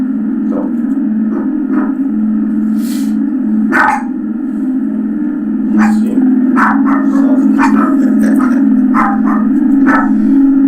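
A dog barks and yips in scattered, sharp bursts over a constant low hum, some barks loud and close, others quicker and softer.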